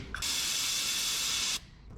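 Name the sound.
spray cleaner sprayed on a truck brake line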